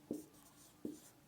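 Marker or chalk strokes on a board during a Class 12 physics lesson on electric field lines: three short, distinct scrapes at roughly even spacing, close and clear, with no talking.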